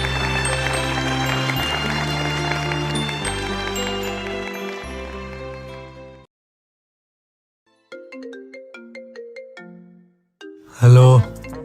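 A mobile phone ringtone in a Hindi-dubbed Doraemon animated film plays as a melodic electronic tune, the first phrase running loud and steady, then a gap, then the tune resumes in shorter, lighter notes before a sudden loud burst at the end.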